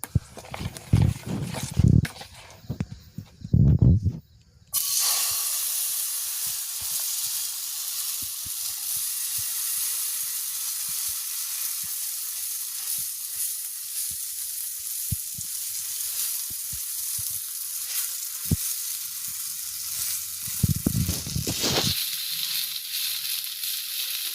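Dosa batter fries in oil in a pan with a loud, steady sizzle that begins abruptly after a few seconds of clattering handling and runs on close, with brief knocks and scrapes near the end.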